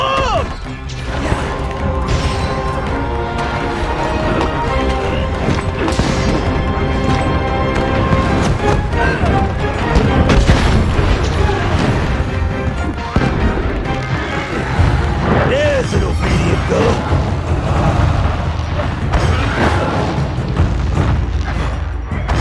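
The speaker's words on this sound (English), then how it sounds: "Hey! I put down a bomb!" Bombs go off in a video game as a long run of loud booms and crashing smashes over a constant busy background of game music and effects, with brief voice lines mixed in.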